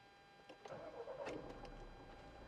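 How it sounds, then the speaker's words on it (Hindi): A Mahindra Scorpio-N Z8 Select diesel engine cranks briefly and catches, then settles into a low, steady idle, heard quietly from close by. "तो ये कुछ आपकी इंजन साउंड आती है डीजल इंजन की"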